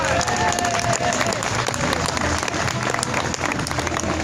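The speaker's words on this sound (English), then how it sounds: "So how about a round of applause for Brian." An audience applauds loudly and steadily, a dense wash of clapping from a crowd.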